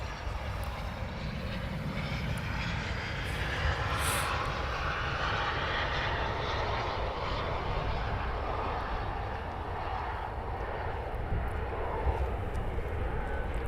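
RAF Typhoon fighter jets, a flight of three passing low over RAF Coningsby, produce a steady broad roar of jet engine noise that holds loud for the whole stretch, with no voices.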